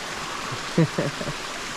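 A mountain stream near a cabin flows with a soft, steady wash. A few brief, faint voice-like sounds rise over the continuous water noise.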